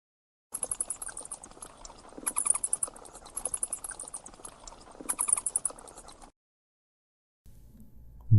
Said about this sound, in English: bat,